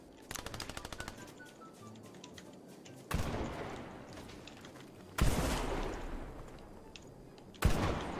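Video game gunfire with rapid automatic bursts early on, followed by three heavy, booming shots with lingering echo tails, fairly loud against a low background.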